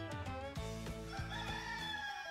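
A rooster crows loudly and clearly in a drawn-out cock-a-doodle-doo, heard alone as a radio station jingle for WHBN Harrodsburg.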